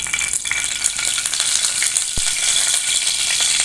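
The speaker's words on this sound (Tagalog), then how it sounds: "kamatis na may bagoong isda. Ilagay natin ang talong." Eggplant goes into a pan of frying tomatoes with fermented fish paste, giving a busy sizzle and stirring scrape, with one sharp metallic clink partway through.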